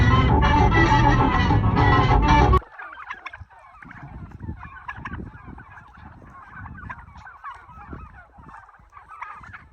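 A flock of turkeys on a turkey farm gobbles in irregular, overlapping bursts at moderate distance, after a loud, harsh opening burst that cuts off abruptly.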